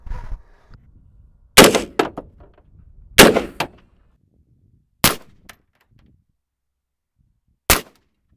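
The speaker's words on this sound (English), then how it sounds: "Well, let's shoot some more into it." Four 7.62 rifle rounds are fired into soft body armor outdoors, loud sharp cracks spaced a second or more apart, each with a short echoing tail.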